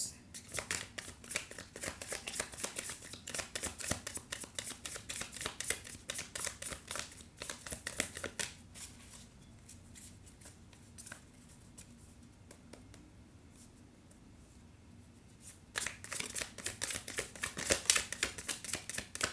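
A deck of tarot cards is shuffled in dense, rapid riffling bursts that pause for a few quieter seconds midway, then resume with a final flurry of crisp card flicks.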